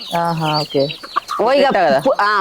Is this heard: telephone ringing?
no